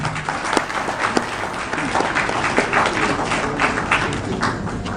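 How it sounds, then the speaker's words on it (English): Audience applause at an awards ceremony for taxpayers, a sustained patter of many hands clapping with scattered sharper claps, steady and moderately loud throughout. "Another rounds of applause, the big one."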